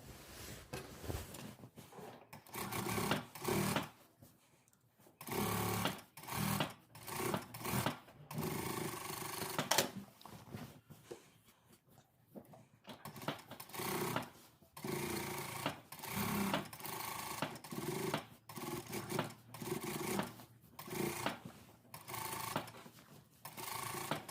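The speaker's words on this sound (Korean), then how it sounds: "자, 이렇게 해서 두 선 봉제했습니다" A sewing machine runs two lines of topstitching along a sailor-collar dress panel, whirring in bursts with brief stops between runs, loud and close with no talking.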